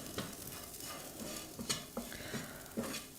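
A breakfast mixture with Maggi masala is stir-fried in a pan, giving soft, continuous sizzling with repeated scraping strokes and light utensil knocks, fairly quiet and close.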